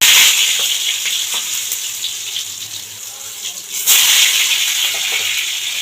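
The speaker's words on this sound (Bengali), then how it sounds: "আর দেখো তেলটা গরম হয়ে গেছে আমার, তাই এগুলো ছেড়ে দিই।" Eggplant pieces seasoned with turmeric and salt drop into hot mustard oil and fry with a steady, bright sizzle. The hiss fades a little, then flares up loudly again midway as more pieces go in, with faint clatter underneath.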